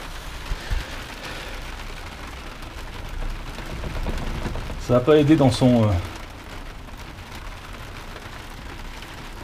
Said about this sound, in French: Alors, en plus, il pleut.